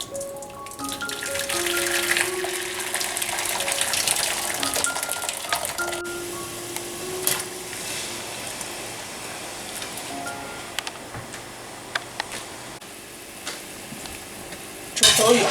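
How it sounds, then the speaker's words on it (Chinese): Soybean sprouts are cooked in a pot of boiling water, giving a continuous bubbling, sizzle-like rush with some stirring and scraping, moderately close and steady for about fifteen seconds, with faint tonal sounds at the start. "我们把黄豆芽煮熟"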